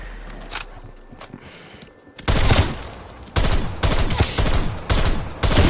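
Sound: gunfire in Call of Duty Black Ops Cold War Zombies video game

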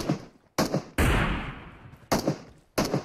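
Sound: gunfire in PUBG Mobile video game

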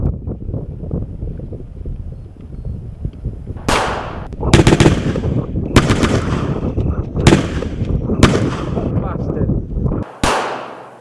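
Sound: gun being fired in a short film

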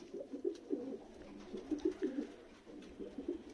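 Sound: racing pigeons cooing at home loft

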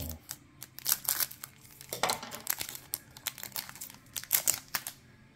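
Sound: trimming open the tops of baseball card pack wrappers

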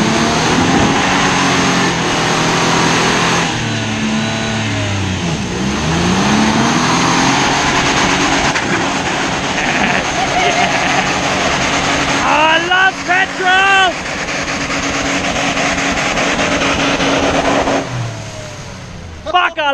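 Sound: petrol car engine revving

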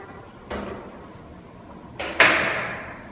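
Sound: sliding door being opened or closed

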